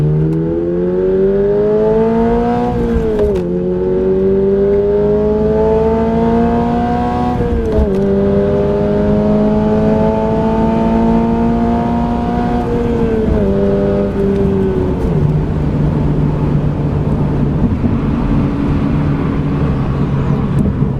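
A 2022 Subaru BRZ with an HKS Spec-L exhaust pulls hard at full throttle, its steady droning engine note climbing in pitch through several gears with brief dips at each shift, loud and close throughout.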